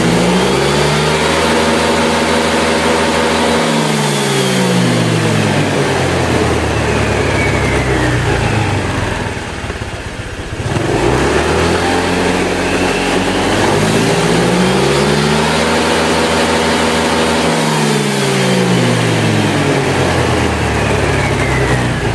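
A Honda Vario 125 scooter engine fitted with an upgraded CVT revs up hard, winds back down, then revs up again in long rising and falling sweeps, loud and close, with no talk.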